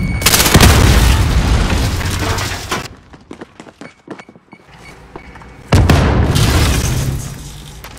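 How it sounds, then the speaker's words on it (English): Call of Duty Modern Warfare gameplay carries two loud, close grenade-style blasts with debris and rumble, separated by a quieter stretch of scattered clatter. "That grenade did nothing."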